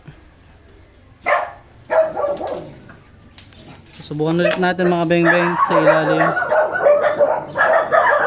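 Dogs bark in short bursts early on, then a person talks steadily over the remaining barking in the background.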